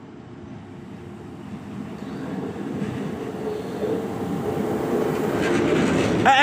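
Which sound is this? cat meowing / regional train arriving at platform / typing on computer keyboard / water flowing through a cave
regional train arriving at platform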